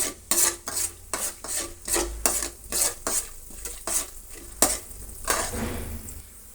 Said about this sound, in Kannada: ಅರ್ಧ ಸ್ಪೂನ್ ಸಾಸಿವೆ ಅರ್ಧ ಪೂನ್ ಸ್ಪೂನ್ ಜೀರಿಗೆ ಮತ್ತು ಎರಡು ಸ್ಪೂನು ಕಡಲೆಬೇಳೆ ಹಾಕಿದ್ದೀನಿ ಅವನ್ನು ಹುರಿಯೋಣ